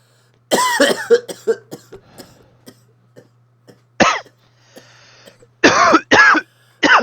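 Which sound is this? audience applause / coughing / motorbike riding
coughing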